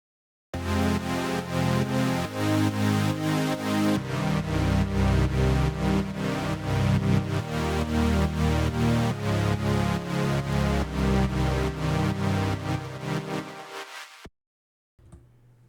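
A synth power chord with its root note doubled an octave down, in a heavy metal-flavoured track, plays loud and sustained with repeated rhythmic chord hits for about fourteen seconds, then cuts off abruptly.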